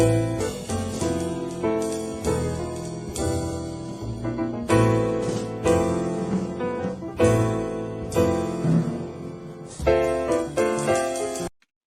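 A jazz trio plays with piano, bass and drums: busy piano chords over walking bass, full and close, ending abruptly.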